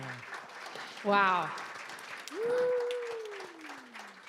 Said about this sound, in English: Can we give a round of applause to the very high-tech tech team over here?